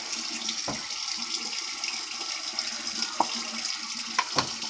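A bathroom tap runs quietly as water is splashed over the head before shaving, a soft steady trickle with a few small splashes and drips near the end.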